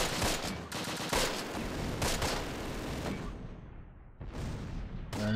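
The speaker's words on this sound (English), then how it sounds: "Throw some mortars on them!" Mortar fire in the Close Combat: The Longest Day war game, a rapid run of sharp blasts and bursts packed close together, then a short quiet gap before one more burst near the end.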